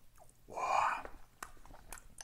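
Salmon sushi with sliced truffle is chewed close to the mic in a short, soft, moist burst, followed by a few faint clicks.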